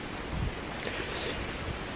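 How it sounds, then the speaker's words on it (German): Strong wind blows outdoors, a steady, full roar with gusty rumbling buffets close by, with no talking. "der Wind pfeift ganz schön"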